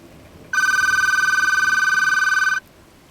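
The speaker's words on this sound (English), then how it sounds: "The phone had rang the next morning at around 8 a.m." A telephone bell rings in one steady, continuous electronic trill lasting about two seconds, loud and close over a quiet background hiss, used as a sound effect in a narrated ghost story.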